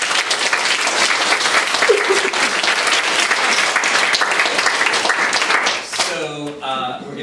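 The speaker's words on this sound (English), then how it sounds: "Another round of applause for them." An audience at an evening storytelling event gives the storytellers a round of applause, a dense, loud burst of clapping that fades after about six seconds as someone starts talking.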